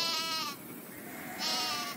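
Sheep bleat twice, a quavering call followed by a second after a short gap, moderately close against a faint outdoor background.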